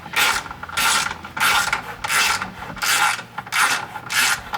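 Bolt being driven into a vehicle skid plate with a ratchet: six or seven evenly spaced bursts of rasping ratchet clicks, close and fairly loud, with no talking.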